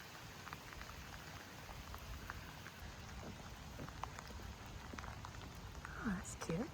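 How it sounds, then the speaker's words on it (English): Rain patters steadily in Northern Ireland, a soft continuous hiss with scattered drop ticks, fairly faint; a voice comes in briefly toward the end. "It just rains a lot here."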